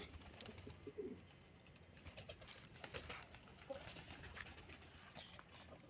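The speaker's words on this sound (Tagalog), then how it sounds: "May mga kalapatids." Pigeons cooing inside a small backyard loft, soft repeated low coos and rustling close by, with faint bird calls mixed into a quiet background.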